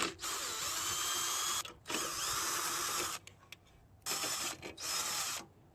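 A power drill whirs in long bursts while backing out fasteners from the air filter housing on a generator, loud and close, with short pauses between runs.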